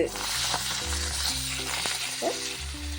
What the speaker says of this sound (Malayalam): ആ എണ്ണ തന്നെ ഉപയോഗിക്കാം അങ്ങനെ പപ്പടം ഇട്ടെടുത്തു പപ്പടം അങ്ങനെ വാടി വരുന്നുണ്ട്